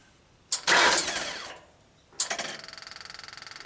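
Hydraulic pump motor on a Genie lift with a stall and no-start fault, buzzing on in two bursts: a loud whine that fades after about a second, then a steady pulsing hum that keeps running to the end.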